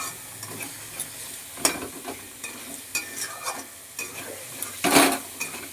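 Two tomatoes added to spices frying in a pan for chicken kasa sizzle steadily, with scattered spoon scrapes and clinks and one loud burst of spatter near the end, close and without talk.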